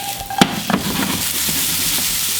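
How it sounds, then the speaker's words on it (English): Garlic and mushrooms sautéing in olive oil for creamy Asiago chicken, a loud, close, steady sizzle with a couple of sharp stirring clatters near the start. "Then we're going to go in with our garlic."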